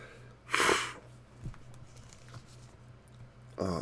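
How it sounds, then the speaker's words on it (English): A single sneeze bursts out near the start, loud and close, followed by quiet room hum with faint small noises, then a short breathy sound at the end; nobody speaks. "I'm going to sneeze again"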